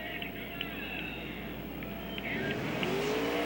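Race cars at the 2006 Allstate Texas Thunder 200 accelerate on a green-flag restart, a steady pack of engines in the distance with faint passing whines building toward the end, heard under a light background murmur.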